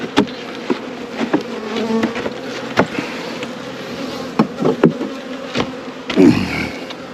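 Honey bees buzz steadily around a beehive during an early-season hive check, a close, continuous drone with individual bees zipping past the microphone and a louder buzzing burst near the end.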